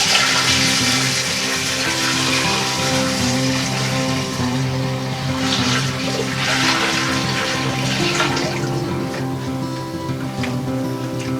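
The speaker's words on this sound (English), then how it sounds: "So I'm going to pour" Sanitizer liquid poured into a 6.5 gallon glass carboy for making mead, a loud continuous gushing and gurgling pour that runs steadily from start to finish, close up, with no talking.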